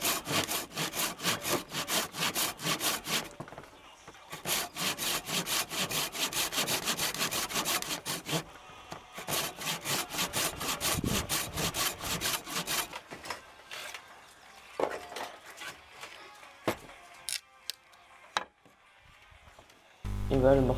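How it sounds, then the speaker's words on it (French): Steady rhythmic strokes of a Japanese pull saw cutting lengthwise through wood for a Les Paul guitar build, in long bursts separated by brief pauses, then slowing to a few scattered scrapes near the end. "Et je découpe ensuite dans la longueur à l'aide d'un scie japonaise."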